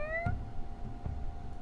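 A cat meowing in a horror visual novel, one short descending meow near the start followed by a faint sustained tone and a weaker second cry, quiet and alone.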